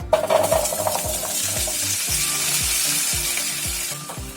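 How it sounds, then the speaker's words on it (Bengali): Potatoes frying in a pan for Bengali aloo posto: loud, continuous close sizzle with repeated rhythmic stirring scrapes and clinks throughout. "আলুটাকে দশ মিনিটের জন্য মিডিয়াম ফ্লেমে ভেজে নিন"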